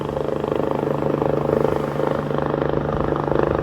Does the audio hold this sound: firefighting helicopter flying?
yes